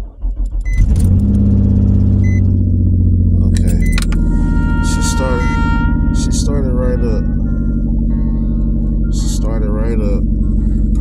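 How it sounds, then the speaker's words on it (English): A car engine cranks and catches, then settles into a steady, loud idle rumble that runs to the end, with brief rattles and a person speaking over it. "Let me try to see if I can start this car, because sometimes it don't be starting."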